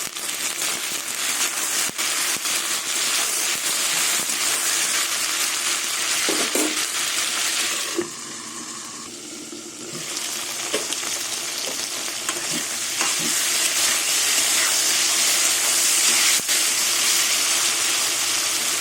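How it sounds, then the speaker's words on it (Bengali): Okra being stirred and fried in mustard oil gives a steady, loud close sizzle that runs throughout, with scraping stir strokes and a brief softer dip midway. "এবার ঢ্যাঁড়সগুলো তেলে ভেজে নেব"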